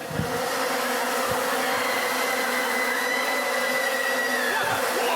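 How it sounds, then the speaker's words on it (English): A dense swarm of bees buzzes loudly and steadily inside a room, forming a continuous close drone with no voices over it. "This is what it would be like if there was a bunch of bees in the room right now."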